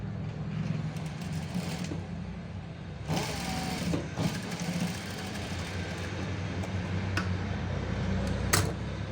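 A sewing machine stitching a blouse back neck design, its steady mechanical whir running continuously with a few brief pauses and clicks in between.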